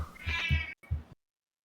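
A house cat meows twice, a drawn-out close meow followed after a short gap by a shorter one, then silence.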